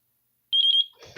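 A Taranis QX7 radio transmitter gives a rapid series of four high, clear electronic beeps while binding to a receiver, followed by a short rustling handling noise.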